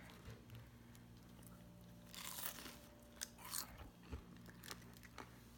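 Crunchy bites into a crispy homemade cheese quesadilla with salsa, several close crackling crunches and chewing sounds spread over a few seconds against a steady low hum.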